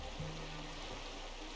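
A river flows in Red Dead Redemption 2 with a faint, steady rushing wash of water, broad and continuous throughout.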